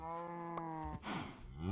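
A cow in the Minecraft video game lets out one long, low, loud moo that holds steady before dropping off, with no talking over it.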